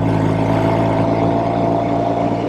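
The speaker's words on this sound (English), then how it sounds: "Triumph TR6R. I love it. What a machine, what a machine. Sounds good." A 1970 Triumph Tiger 650 TR6R, an air-cooled overhead-valve parallel twin motorcycle, idling loudly and close with a steady throbbing drone that holds even throughout.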